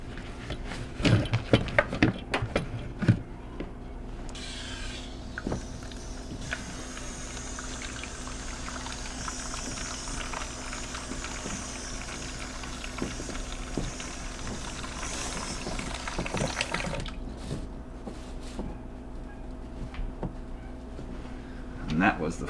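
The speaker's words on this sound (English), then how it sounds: "that was the full water pressure coming through this shutoff" Water rushing at full pressure from a Whirlpool dishwasher supply line into a bowl, a steady close splashing and gushing with clanks and knocks at the start and end, under a person speaking.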